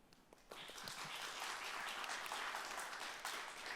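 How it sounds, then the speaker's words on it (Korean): An audience at a women's finance conference panel discussion welcomes the panelists with applause that starts after a brief pause and holds steady, a dense wash of many hands clapping in a large hall. "우리 패널 토론자들을 모두 박수로 환영합시다"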